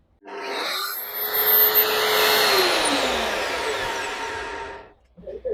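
A Verx slab cutter runs after a switch replacement: it starts with a burst, whines steadily at high pitch, the pitch sags slightly, then it switches off and a few knocks follow.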